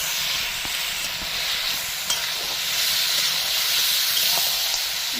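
Spice-marinated duck meat sizzles in a hot pan, a steady bright hiss broken by occasional sharp crackles and ticks, with no voices.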